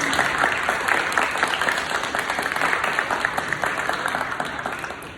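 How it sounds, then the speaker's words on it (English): Participants at a middle school leadership ceremony receive a warm round of applause from the audience, a thick crackle of many hands that holds steady and then gradually tapers. "can we please just clap it up for all of our participants?"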